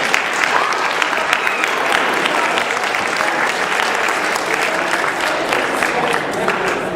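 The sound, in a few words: audience applause at science olympiad awards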